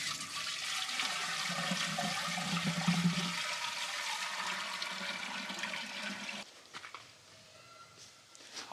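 A tractor's water system being flushed to check for a leak after repair: a loud, steady rush of water lasting about six seconds, then dropping to a quieter trickle and patter.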